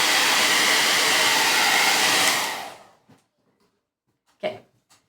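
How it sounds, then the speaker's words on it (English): A hair dryer blows loudly on wet stencil paint for a couple of seconds, then cuts off, leaving silence broken by a few faint clicks and a short breath. "blow dry."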